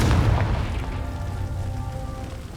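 A Confringo spell blast in the Hogwarts Legacy game, a loud booming burst up front that decays into a rumbling, crackling tail.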